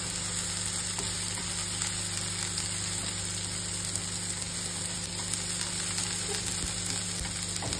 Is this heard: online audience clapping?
no